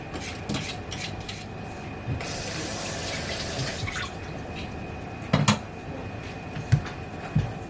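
Peeled potatoes rinsed under a running kitchen tap, a soft steady trickle of water with a few sharp knocks and splashes of handling near the end, close by and without speech.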